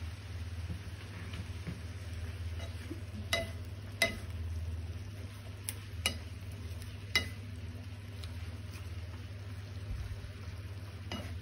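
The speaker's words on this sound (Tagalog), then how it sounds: "Haluin lang natin." Japanese-style bean sprouts (toge) are stirred in a pan, with faint scraping and a handful of light spatula taps over a steady low hum in a quiet kitchen.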